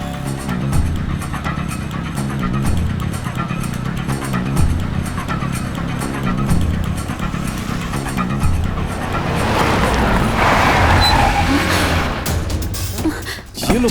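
A car races along in a chase, its engine roaring loud and steady with tire noise swelling toward the end, while voices talk urgently over it throughout.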